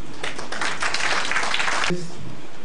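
Audience at a nursing association event in Katsina applauds, a dense burst of clapping for about two seconds that stops abruptly, followed by a voice starting to speak.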